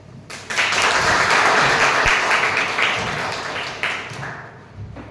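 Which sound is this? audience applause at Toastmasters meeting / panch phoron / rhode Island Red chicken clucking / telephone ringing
audience applause at Toastmasters meeting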